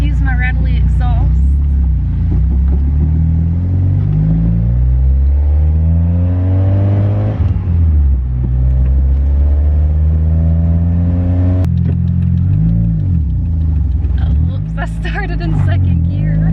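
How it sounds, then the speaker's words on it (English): A Mazda Miata with a rattly exhaust pulls away from inside the cabin, its engine droning loud and close, revs rising and falling through gear changes, with a person talking over it at points. "Excuse my rattly exhaust."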